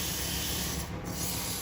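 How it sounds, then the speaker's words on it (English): A piece of wood spinning on a lathe is sanded in a continuous, loud, steady abrasive rubbing hiss, close by and unbroken apart from a slight dip midway, with no talking. "Alright, so we're going to sand this quickly."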